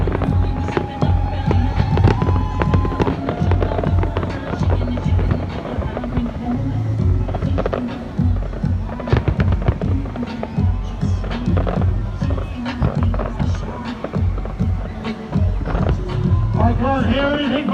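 New Year 2020 fireworks display at Ras Al Khaimah, UAE: dense, continuous crackling bursts and booms, loud and close, mixed with crowd noise and announcer speech over a steady rumble.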